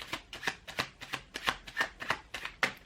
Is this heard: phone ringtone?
no